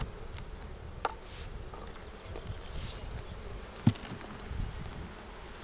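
Honey bees in a beehive box, with workers crawling over the honey frames at a conservation area, give off a steady, soft, low buzzing hum, broken by a few faint knocks from handling the box.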